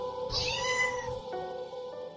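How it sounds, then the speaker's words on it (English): A cat gives one drawn-out, fairly loud meow that falls in pitch, then a quieter tonal tail trails off against a faint steady background hum. "Kitty!"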